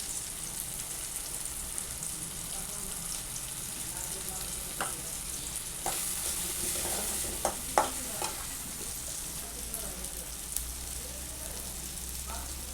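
Tomato masala with chili, coriander powder, turmeric and garam masala frying in a pan, a steady close sizzle with scattered clicks and scrapes of a stirring spoon against the pan.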